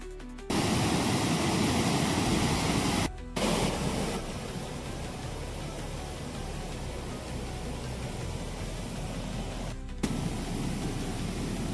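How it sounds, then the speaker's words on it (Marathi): The Ozar waterfall on the Girna river near Suragana roars as a loud, steady wash of broadband rushing water, broken by two brief cuts to near silence. "तर जिथं जो धबधबा पडू राहिला ना तिथं डोंगरदेवाचं गौळ पण आहे."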